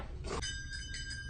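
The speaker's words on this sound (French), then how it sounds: "Oh, c'est un son de la cloche!" A school bell rings in a classroom, starting with a short burst of noise and then settling into a sustained, bright, tonal ringing that holds steadily to the end.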